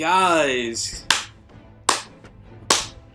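A voice speaks briefly, then three sharp single hand claps follow, evenly spaced and close, each ringing out before the next.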